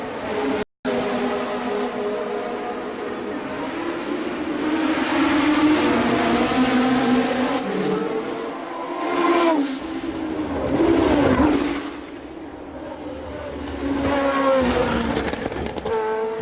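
Historic 1966–1975 Formula One cars racing at the Monaco Historic Grand Prix, among them a Tyrrell P34 and a Shadow, with loud, high-revving engine howls rising and falling as cars pass close by.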